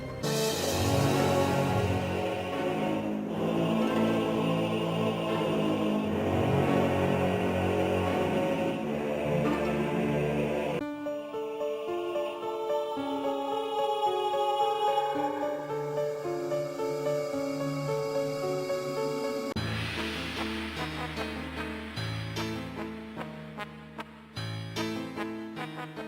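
Orchestral-style soundtrack music from the PS1 video game Medievil plays continuously and loudly with no talking, its layered tones shifting sections midway and toward the end.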